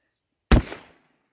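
A single sharp gunshot from a .45 Colt single action revolver cracks out of silence, loud and close, with a short fading echo.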